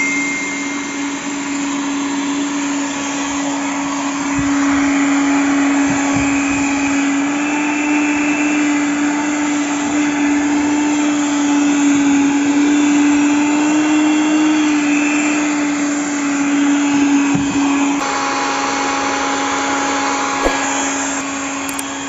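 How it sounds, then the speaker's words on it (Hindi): Car vacuum cleaner with a hose pipe, running continuously with a loud, steady motor whine and airy rush for over twenty seconds, its pitch shifting slightly near the end, with no talking. "ये है, एक की पाइप है, वैक्यूम क्लीनर है"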